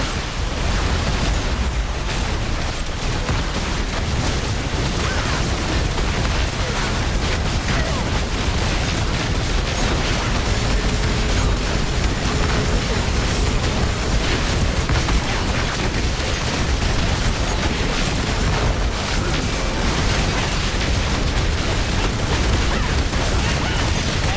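A portal being destroyed in Marvel Heroes 2016 during the Dark Dimension event: dense, continuous explosive rumbling and bursts fill the whole stretch, loud and unbroken, with no clear separate blasts standing out.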